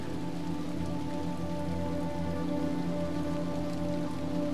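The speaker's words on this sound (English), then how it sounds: "And we are back in the rain." Steady rain pours down in the dark world of the video game Little Nightmares II, a dense, even hiss of drops that holds at a constant level throughout with no voices.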